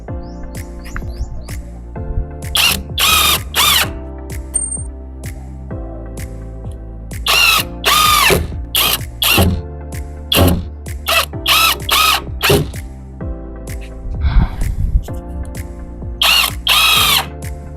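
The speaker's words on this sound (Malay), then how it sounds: "kita nak bagi kukuh lagi, kita drill setiap bingkai tepi ni" Power drill boring into the edge frame of a wooden floor-sitting study table, several loud high-pitched whirring bursts in short spurts with pauses, bird chirps faint in the background.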